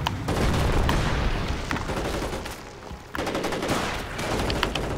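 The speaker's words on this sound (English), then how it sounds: "they were shooting from that building" Enemy gunfire in the WWII strategy game Company of Heroes: Opposing Fronts, with continuous overlapping rifle and machine-gun fire and booming impacts, a brief lull, then renewed heavy shooting.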